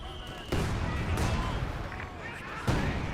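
SU-76 self-propelled gun firing in Company of Heroes 2, several sharp booming shots with rumbling tails over continuous battle noise, with a voice talking underneath.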